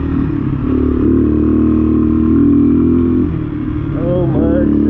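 A Honda XR200 dirt bike rides over gravel, its engine a loud, close, steady drone with a brief dip and shift in pitch, while a voice is heard over it.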